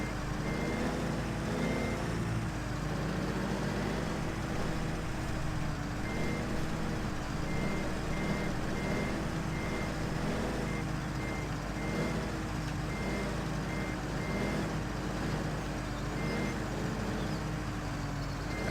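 Steady, evenly spaced reversing beeps from a truck backing up a twin-steer trailer, a repeating tone over a continuous low engine rumble with no talking.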